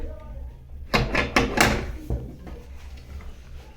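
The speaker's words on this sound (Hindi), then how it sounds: "लड्डू के पापा आ गए हैं अभी, दरवाजा धक्का मत दो यार" Indoors, a door is pushed and rattles in a few quick knocking thumps, close and moderately loud, tapering into quieter bumps.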